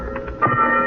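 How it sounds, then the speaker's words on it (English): Ship's fog warning bell struck twice at moderate distance as a radio drama effect, each clang leaving a ringing tone that lingers under a steady murmur. "Why is that bell ringing, Lamont?"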